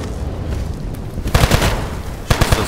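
Enforcer Pistol in Blades and Sorcery fires two quick bursts of close, punchy rapid shots separated by a short pause, loud over a steady background hiss.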